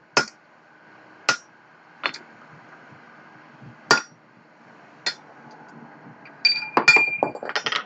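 Hot steel struck on an anvil at a home-built coal forge to upset the bar: sharp, ringing hammer blows spaced about a second apart, then a quicker flurry of lighter clinking strikes at the end.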